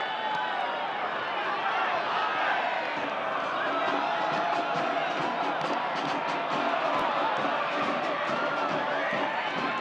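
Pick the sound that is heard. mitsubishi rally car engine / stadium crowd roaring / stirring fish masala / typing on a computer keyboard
stadium crowd roaring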